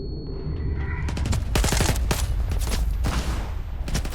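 Gunfire in the video game S.T.A.L.K.E.R. 2, a quick burst of several sharp shots followed by a couple more, loud and close, alone without talk.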